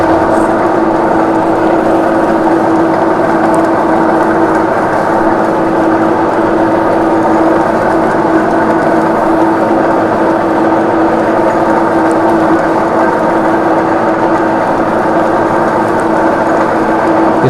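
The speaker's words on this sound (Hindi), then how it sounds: "आरपीएम मैंने मशीन के लो कर दी हैं और स्टार्ट करते हैं अभी मशीन" A lathe machine turns at low RPM, giving a steady, even mechanical drone with a constant tonal hum that holds unchanged for the whole stretch and no voices.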